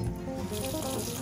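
Water is splashed into a cast iron pan at the sink while cleaning a Griswold Dutch oven, a steady close rush of running, splashing liquid with no talk.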